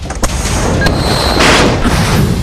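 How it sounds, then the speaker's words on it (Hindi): Missiles launch from warships at sea in a broadband roaring whoosh that swells near the middle, with sharp blast-like transients early on, loud and close, no voices. "युद्धक जहाजों से निकलती मिसाइलें,"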